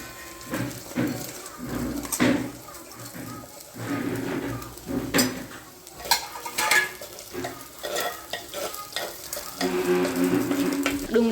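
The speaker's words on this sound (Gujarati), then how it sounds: "બે મિનિટ સુધી સાતરીશું, પછી તેમાં આપણે સૂકી ડુંગળી અને લીલી ડુંગળી એડ કરી દઈશું." Dry and green onions sautéing in a pan with garlic paste in a home kitchen, a soft sizzle broken by repeated scraping and stirring clinks of a utensil against the pan.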